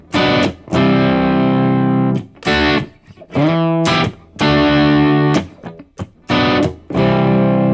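Distorted electric guitar strums the verse chords of a song in short bursts with brief gaps, one chord ringing longer in the middle, loud and close.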